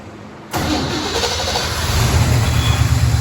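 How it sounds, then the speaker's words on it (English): A 1969 Pontiac Firebird engine with a bad injector cranks and fires up abruptly, then settles into a loud, rough running rumble that grows a bit stronger, close by with no talking. "We have engine running."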